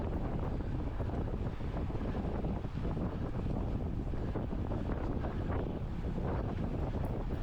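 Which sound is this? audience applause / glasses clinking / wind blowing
wind blowing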